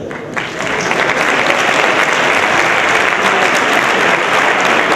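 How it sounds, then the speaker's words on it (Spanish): Loud, steady audience applause at a sports gala in Socuéllamos honoring Shotokan karate performers, starting abruptly and continuing densely to the end. "Un fuerte aplauso para todos ellos."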